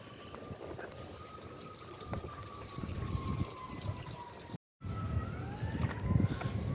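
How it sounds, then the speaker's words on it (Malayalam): A fire engine siren wails along a Canadian street during a sudden thunderstorm, its gliding tone falling and rising at a distance under steady rain and water noise. "ഫയർ എഞ്ചിൻ്റെ സൗണ്ട് കേട്ടോ"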